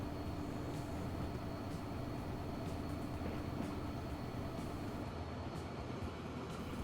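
UK cargo locomotive in the video game Transport Fever 2, a steady low rumble of rolling rail wagons with faint clacks, close and continuous with no talk.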